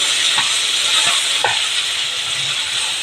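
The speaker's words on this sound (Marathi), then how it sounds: "तर हे तांदूळ मी छानपैकी भाजून घेणार आहे" Rice dry-roasting in a pan as it is stirred, giving a steady, close sizzling hiss with a few soft scraping strokes and no talking.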